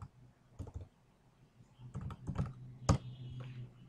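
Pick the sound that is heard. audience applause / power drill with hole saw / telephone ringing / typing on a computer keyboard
typing on a computer keyboard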